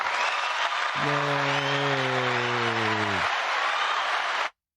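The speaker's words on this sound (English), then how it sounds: "My applause got cut short" Canned applause sound effect for a podcast host, a continuous crowd clapping wash with a sustained low tone sliding across the middle, then abruptly cut off into silence.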